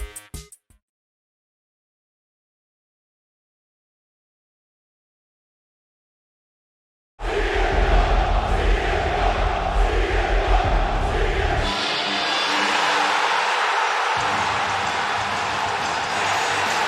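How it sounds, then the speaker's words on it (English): A Chicago wrestling crowd erupts into a loud, sustained roar and cheers for CM Punk after several seconds of silence, filling a large arena with dense, continuous crowd noise that dips briefly and swells again. "The pop CM Punk received from the Chicago crowd was so loud"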